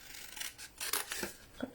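Cardboard for a diagonal-opening chocolate Santa box is cut in a few short, quiet, rasping strokes, close and with no voices.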